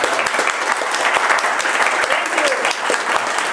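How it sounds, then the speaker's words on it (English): Audience applause for a guest after an interview, steady dense clapping throughout with some voices mixed in. "Megan is back there clapping for you"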